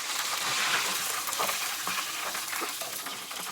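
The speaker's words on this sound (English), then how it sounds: "This thing is fried to perfection." Fish and shrimp deep frying in hot oil in a Loco Cookers double burner fry cart, a steady loud bubbling sizzle with faint crackles and occasional stirring clinks throughout.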